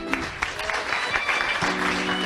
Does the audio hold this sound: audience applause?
yes